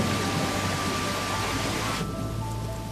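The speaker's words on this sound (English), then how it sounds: "As feared, the hail quickly turns into a downpour." Heavy rain pours down after a hailstorm, a dense, continuous hissing roar that stays loud and even for the full three seconds, with no voices.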